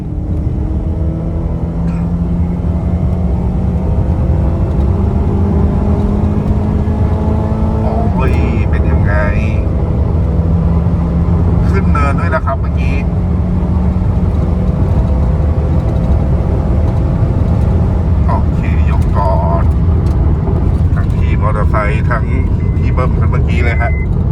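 A remapped Honda Accord Gen 8 2.4 on 18-inch wheels, without a catalytic converter and running on stock exhaust, drives with a steady low engine drone and rising revs, while someone talks over it.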